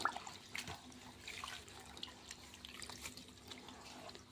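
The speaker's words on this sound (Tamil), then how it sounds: "கருவேப்பிலையும் நல்லா ஃப்ரெஷ்ஷாக கழுவி உள்ளே சேர்த்துக்கலாம்" Fresh curry leaves are rinsed in water, giving faint, close splashing, trickling and dripping with small sloshes over a quiet background, with no voices.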